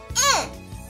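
A voice briefly mimics the Roblox video game death sound, a short rising-then-falling vocal blip lasting under a second.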